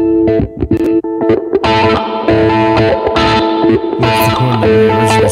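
Electric guitar played through AmpliTube amp simulator presets, choppy distorted chords and notes with effects, loud and close, changing tone between short phrases.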